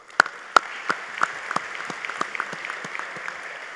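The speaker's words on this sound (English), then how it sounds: "So a big round of applause for them, please." Light, sparse applause at a graduation commencement ceremony: a handful of separate claps, a few sharp ones at first, then thinner scattered clapping fading out.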